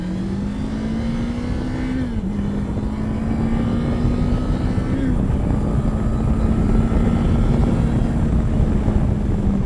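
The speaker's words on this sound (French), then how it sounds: "ce moteur, dès qu'on atteint les 4500 tours minute, il a la vivacité nécessaire" A Kawasaki KLE 500 SE motorcycle engine accelerating on the road, a loud, steady drone that rises in pitch, dips briefly at two gear changes, then keeps climbing, with wind rush throughout.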